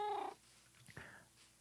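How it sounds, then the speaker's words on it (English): A small black cat tamed in a Minecraft-style farming game gives a clear mewing call at the start, followed by a fainter short cry about a second later, with no talk. "And we tamed a cat."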